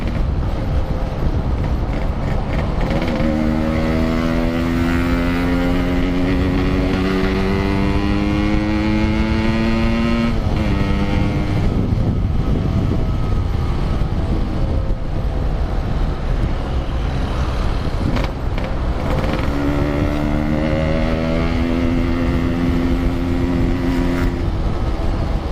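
Yamaha Aerox scooter and Yamaha R15 motorcycle speeding along a road, loud continuous engine roar with rising and falling revs as they accelerate, recorded close from a following rider, no talk.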